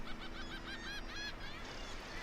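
Seabirds honk and call repeatedly on Lunga, a protected bird reserve in the Inner Hebrides of Scotland, in a busy colony heard at a moderate distance under faint wind.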